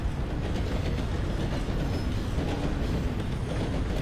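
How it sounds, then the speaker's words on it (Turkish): A train rolls past in the open-world western game Red Dead Redemption 2, a steady, loud rumbling wash of rail noise with faint clattering wheels that holds constant throughout, with no talk over it. "Oğlum tren geliyor."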